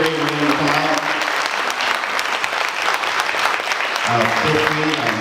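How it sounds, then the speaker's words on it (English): An audience at a candidate poverty forum applauds the candidates, loud continuous crowd clapping, with voices talking over it at the start and again near the end. "please give a round of applause for all of our candidates that came out today"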